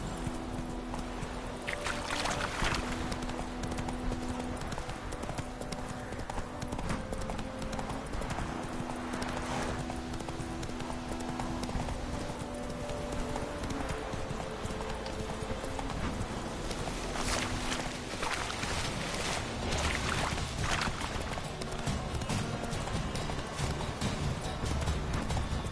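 Horse hooves clip-clop at a gallop in The Witcher 3, a steady rhythmic pounding running throughout over a bed of game music and ambience, with no voices.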